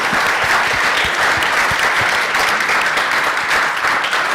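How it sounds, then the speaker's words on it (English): Audience applause at a talk on healing historical wounds rolls on loud and unbroken, a thick wash of many hands clapping at once without speech. "let's give you a clap for what happened with your dad"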